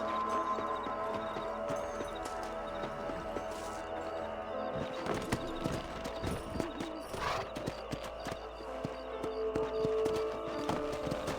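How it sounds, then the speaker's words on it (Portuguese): Horse hooves clip-clop steadily through the Wild West video game Red Dead Redemption, with an occasional whinny, over a continuous bed of ambient game sound and music. "Monte no seu cavalo."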